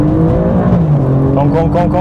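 Alfa Romeo Giulia Quadrifoglio and BMW M3 Competition engines during a drag race, a steady loud engine drone rising in pitch as the cars accelerate, with a voice over it.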